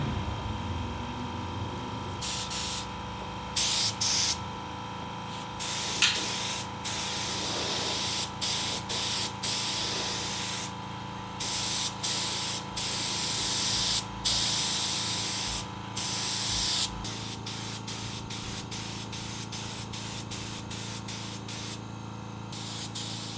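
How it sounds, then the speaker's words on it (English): A compressor-fed paint gun sprays a car roof, producing loud bursts of hiss that start and stop repeatedly over a steady compressor drone, with no speech. "How was spraying the roof with that compressor?"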